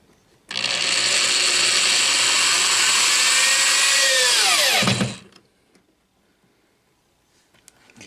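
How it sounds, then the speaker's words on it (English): A power drill drives a screw during the restoration of an Exidy Tail Gunner 2 arcade cabinet, whirring loud and steady for about four seconds before winding down in a falling pitch, then near silence. "Give me the drill. See if you could put that screw."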